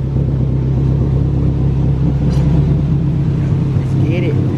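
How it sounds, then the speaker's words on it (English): A Nissan 240SX with freshly rolled fenders rumbles along on a test drive, making a constant loud low engine and road drone from inside the car with no clear gear changes. "So I'm gonna go for a test drive to see if it still rubs."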